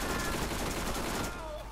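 Fast bursts of gunfire from the shooter game Borderlands 1, loud rattling shots packed tightly together, with a voice talking over part of it before the firing thins out.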